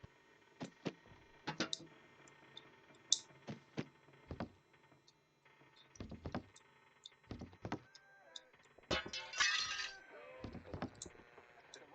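In the Hello Neighbor video game, an object breaks with several scattered crashing and clinking bursts among clicks and thuds, moderately faint with no talk.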